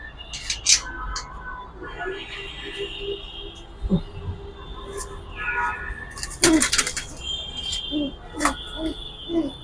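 An army pigeon coos softly in a dim loft, in low, intermittent calls mixed with scattered rustling, clicks and other faint bird sounds.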